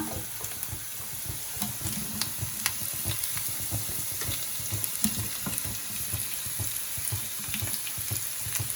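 Onions frying in a pan for paneer manchurian make a close, steady crackling sizzle with frequent small pops, heard alone.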